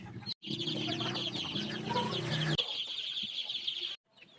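Chickens cluck and chatter steadily inside a coop as a cloth cover is pulled over it, then the noise drops away abruptly into near quiet toward the end.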